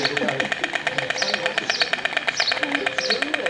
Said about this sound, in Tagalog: yung mga ibon, ang dami nila. Ayan. Ayan ang nagagawa sila ng noise.